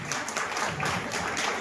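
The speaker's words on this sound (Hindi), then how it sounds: "तो सबसे पहले रेणु जी के लिए एक जोरदार तालियां।" Applause breaks out for Renu ji at a women's self-help organisation's seventh annual celebration, a dense, steady wash of clapping from a crowd that holds throughout, with a faint voice mixed in.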